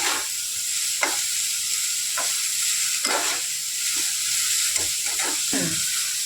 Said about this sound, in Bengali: লবণ অ্যাড করলাম, এবার একটু চালিয়ে নেবো